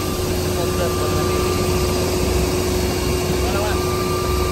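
A steady, droning helicopter engine and rotor roar with a constant mechanical hum during a sightseeing flight over Dubai, loud and continuous throughout, with faint voices underneath.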